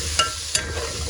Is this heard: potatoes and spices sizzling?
yes